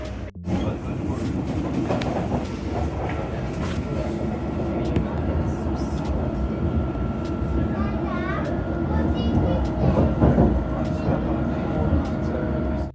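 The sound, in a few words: London Underground District line train running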